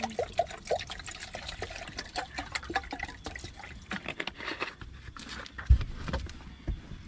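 Water is poured into a cooking pot outdoors, giving a faint, uneven trickle and splash. Soft clinks and a sharp knock come through, against quiet background noise.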